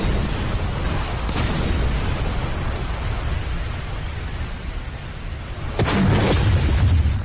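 A cartoon fire attack erupts as a loud, continuous roaring blast of whooshing flame noise with a heavy low rumble, swelling into a burst near the end.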